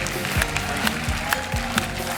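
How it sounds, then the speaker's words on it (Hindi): Steady applause from a TV comedy show studio audience fills the whole stretch, a dense wash of clapping with a few sharper claps standing out. "जोरदार तालियां"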